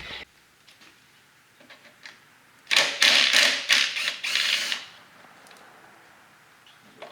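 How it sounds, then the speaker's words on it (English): A ratchet fitted with an 8mm socket loosens the bolts on a Ford Mustang's canister purge valve, producing a quick burst of close, sharp clicking pawl ratchets in the middle, with quiet handling noises before and after. "we're going to get two 8mm sockets, and we're going to pull this valve out"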